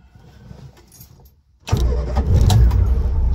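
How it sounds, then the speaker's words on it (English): A 1966 Morris Traveller with its 1100cc engine, heard close: faint clicks and a short whirr, then the engine catches with a sudden loud burst and settles into a steady, even idle. "Starts really nicely. It's got a beautiful sounding engine on it"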